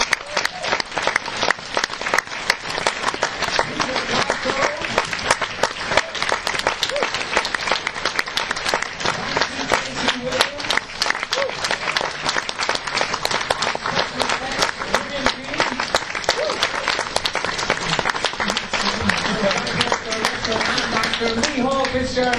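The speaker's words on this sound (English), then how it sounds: "please give a warm round of applause to firstly Carolyn, Bracken." Applause from the audience at a Stormtroopers convention panel, dense sustained clapping with scattered cheers that holds steady and loud throughout, with a voice faintly underneath.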